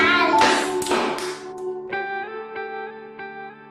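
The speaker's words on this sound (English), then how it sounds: "Clap your hands." Children clapping their hands: a few loud, smeared bursts of clapping at the start, then the clapping stops and sustained musical tones ring on alone.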